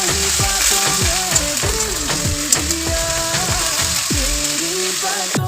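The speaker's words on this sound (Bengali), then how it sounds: "এবার এটা ভালো করে ভেজে নেব।" Ginger and cumin paste fries in a hot pan with a steady, close hiss and sizzle, while tonal background music plays throughout.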